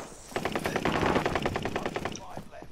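Rapid gunfire from a gun in a video game rattles out as a fast, steady burst of about a dozen close, loud shots, with no talk over it.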